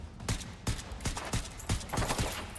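Rapid bursts of gunfire in the video game Generation Zero, with repeated sharp shots spaced irregularly over a steady noisy background, loud and close.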